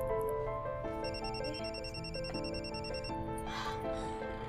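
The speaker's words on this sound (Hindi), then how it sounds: "जरा इनका फोन है।" A telephone rings with repeated electronic tones in a courtroom-style drama setting, a steady patterned ring sounding over background music at moderate loudness.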